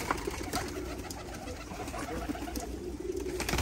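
Pigeons of assorted breeds coo in a loft, a continuous low murmur of overlapping calls with scattered wing and shuffling noises, steady and fairly close throughout.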